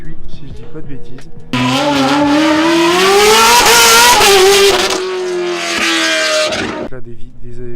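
Vintage GT race cars with 3-litre V8 engines roar at the 24 Hours of Le Mans, a loud sustained bellow climbing in pitch through hard revving and then easing off, with voices mixed in.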